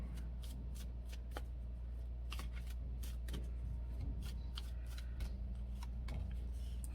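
Close, quiet riffling and sliding of a tarot deck as it is shuffled and cards are pulled. The soft flicks come in quick, irregular bursts over a low steady hum, with no voices.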